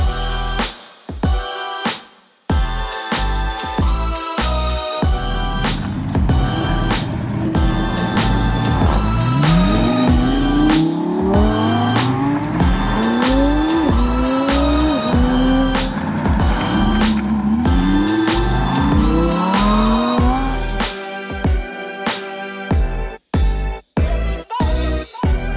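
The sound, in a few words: supercar engines starting and revving in a convoy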